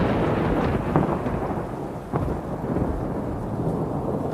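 A night thunderstorm with heavy, steady rain pouring down and several deep rolls of thunder rumbling through, one sharper crack standing out midway, no voices.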